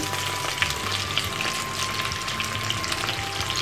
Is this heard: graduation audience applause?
no